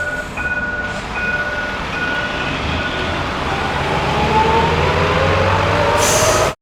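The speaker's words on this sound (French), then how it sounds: "Et on a fait aussi le passage du bus." A bus passes close by as an added film sound effect, a loud, heavy rumble with a rising whine that builds steadily and ends with a brief hiss of air.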